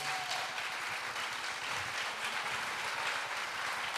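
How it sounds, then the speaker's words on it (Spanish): Dense, sustained applause from a large church congregation fills the space as a continuous wash of clapping, with no speech on top. "Un fuerte aplauso a Jesús."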